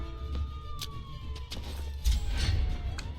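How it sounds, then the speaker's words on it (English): Police sirens wail in the background of the video game Troubleshooter: Abandoned Children, a long falling tone sustained over a low ambient rumble with scattered clicks, moderately loud and continuous. "I do hate that you constantly hear the police sirens."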